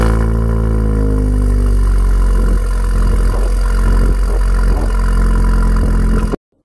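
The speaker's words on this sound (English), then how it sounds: "Cold start time." A car engine on a cold start, settling into a steady, loud idle with a slight revving swell partway through, close to the microphone and running alone until it stops abruptly.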